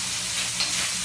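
Bacon and kielbasa sizzle in a pan while being browned for Southern fried cabbage, a close, loud, steady hiss of frying fat with a faint stir partway through.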